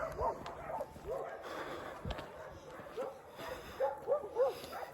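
Dogs fight somewhere behind, with repeated yelping barks, yips and whimpers at moderate distance over a muffled outdoor background.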